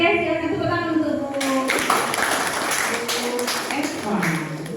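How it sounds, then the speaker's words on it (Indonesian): An audience at an in-house teacher training session at a vocational high school breaks into applause for a teacher, a burst of clapping that starts partway in and continues under ongoing talk. "silakan tepuk tangan untuk Bu"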